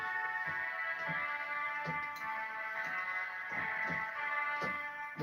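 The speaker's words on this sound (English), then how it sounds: "If you want to hear the oboe on its own" A pipe organ's oboe stop sounds alone, holding a steady reedy tone rich in harmonics, with faint regular ticks behind it.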